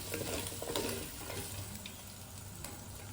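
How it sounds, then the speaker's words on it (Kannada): Onions fry in a pan at home before a crab fry, a continuous soft sizzle with light stirring clinks and scrapes, close and steady, no talking. "ಸೊ ಅದನ್ನು ತೆಗೆದು ಸೈಡಲ್ಲಿ ಇಟ್ಬಿಟ್ಟು ನೆಕ್ಸ್ಟು ಈರುಳ್ಳಿ ಫ್ರೈ ಮಾಡೋಣ ಅಂತ"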